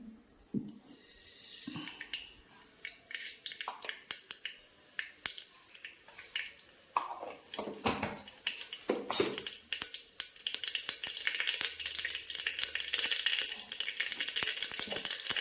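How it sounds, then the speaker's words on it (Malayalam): Mustard seeds crackle and pop in hot coconut oil, a dense run of sharp, irregular snaps that build from scattered bursts into a busy, continuous spatter close to the pan. "കടുക് പൊട്ടിയിട്ടുണ്ട്"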